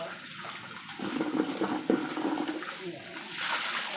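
Fish washed by hand under a running tap, giving a close, continuous splash of water that swells for a couple of seconds with a brief knock partway through.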